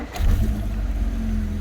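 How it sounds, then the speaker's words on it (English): A Rover K-series engine in a Rover 600 Ti fires up close by after a brief crank, settling almost at once into a steady, low idling rumble with a faint hum running through it. "just listen to the ease in which this engine starts"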